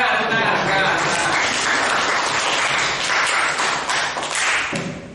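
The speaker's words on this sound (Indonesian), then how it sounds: "Oh, ya tepuk tangan." Classroom group of students applauding after a presentation during a school lesson, a dense steady clapping that fills the room for about five seconds, fading slightly at the end.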